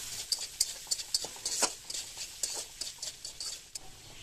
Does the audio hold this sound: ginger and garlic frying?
yes